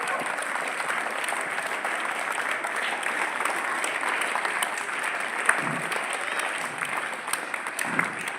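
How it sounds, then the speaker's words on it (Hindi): A crowd at a school event applauds steadily to welcome a guest, giving loud, dense clapping that holds evenly for several seconds. "जोरदार तालियों से हमारे अतिथि का स्वागत करें"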